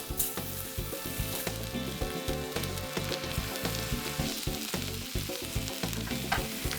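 Butter sizzling loudly in a pan while a pepper steak is basted, a dense crackling spatter with a quick regular rhythm of spoon scoops and pours running throughout, close and steady.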